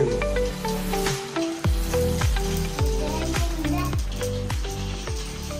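Pani puri dough frying in hot oil at home, a steady crackling sizzle under layered musical tones and a voice, fairly close and continuous.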